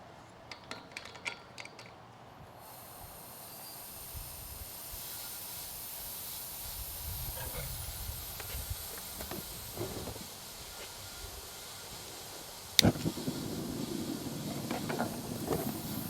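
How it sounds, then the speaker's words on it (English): A steady hiss of propane gas flowing through the lines of a Cast Master Elite GG-5000 furnace rises after a few clicks and keeps flowing, with occasional metallic taps and one sharp clank. "It's very important that you hear the gas going through the lines when you open the valves."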